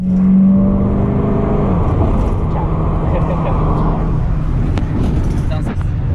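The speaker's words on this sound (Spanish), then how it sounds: "El motor funciona excelente," Engine of a 1971 Ford Mustang running in a workshop, giving a steady low rumbling idle with a brief higher whine at the start, while someone talks over it throughout.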